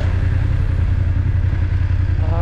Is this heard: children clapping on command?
no